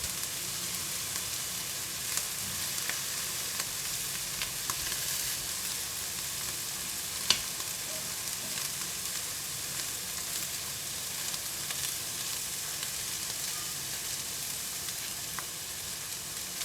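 Butterflied shrimp sizzle steadily on a hot pan with crispy garlic, a continuous close hiss broken by occasional light taps and scrapes of a spoon pressing them down.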